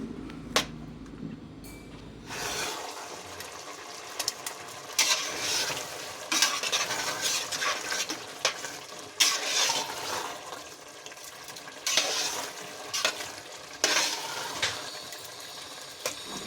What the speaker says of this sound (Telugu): సో అదిగోండి మిల్క్ అయితే వేసేసి బాగా కలుపుతున్నాను